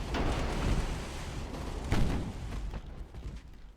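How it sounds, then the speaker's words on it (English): Heavy naval gunfire from light cruisers and destroyers in a strategy video game, a dense continuous barrage of booming shots and blasts with a louder burst near the middle, no talking. "Look at the amount of fire coming in."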